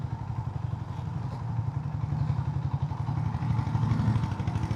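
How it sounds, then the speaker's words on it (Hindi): A Honda CB350RS motorcycle rides through a small tunnel at night, its engine a steady, loud, close thumping drone with a rhythmic low pulse and enclosed echo throughout. "साउंड कैसा हो गया यार टनल के अंदर बाइक का।"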